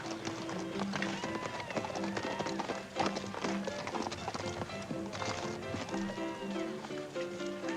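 Horses' hooves clip-clopping on the ground as riders arrive in an old western setting, a busy, overlapping rhythm of hoofbeats that holds steady and fairly loud throughout, with a film score playing beneath it.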